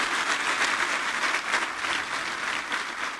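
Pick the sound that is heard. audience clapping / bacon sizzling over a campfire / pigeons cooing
audience clapping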